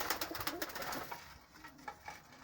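Pigeons cooing softly at a loft on a hot day, low repeated coos with some wing shuffling and faint background activity, fairly quiet and close.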